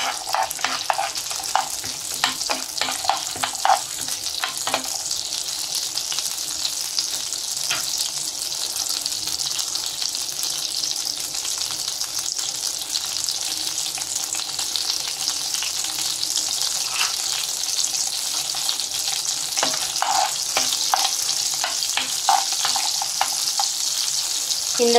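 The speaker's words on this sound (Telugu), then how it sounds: "ఇందులోనే కొన్ని జీడిపప్పు కూడా ఫ్రై చేస్తున్నామండి" Almonds and cashews frying in a pan for beetroot halwa, a continuous bright sizzle with scattered crackles and pops, close and steady throughout.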